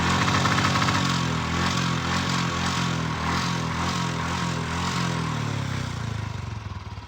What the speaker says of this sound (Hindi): पानी डालने के बाद बाइक स्टार्ट हो गई है